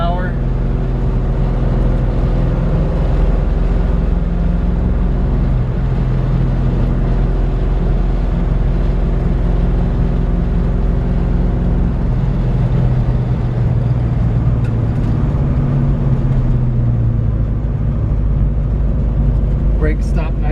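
A 1966 Ford Mustang GT350 clone cruises through a residential neighborhood, its engine a steady, loud low rumble heard from inside the car for the full stretch, with gear changes shifting the drone.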